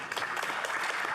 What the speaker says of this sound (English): Colleagues, please join me in applauding this great Canadian,